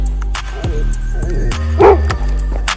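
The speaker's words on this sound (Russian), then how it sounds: "Наконец-то я услышал от тебя лай." A dog named Raketa lets out a few short, close barks and yips in a noisy room, one sharper bark standing out near the end, with a steady low hum underneath.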